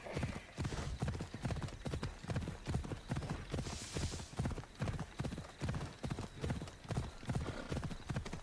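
Hooves clop in a steady galloping rhythm as a horse is ridden in Assassin's Creed Odyssey, the beats close and even throughout, joined by a brief snort or whinny midway.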